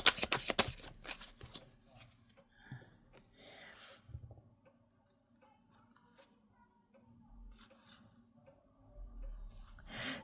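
Tarot cards shuffled by hand in a quiet room, a dense riffling burst at the start and then softer scattered flicks and slides of the deck, fairly close and alone without talk.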